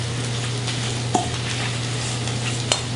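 Fish frying in a pan for tacos gives a steady close sizzle with a soft hiss throughout. Faint stirring scrapes and a couple of light clinks sit on top.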